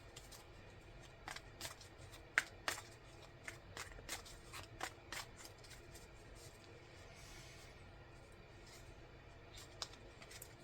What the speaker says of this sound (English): I'm going to draw one card from here.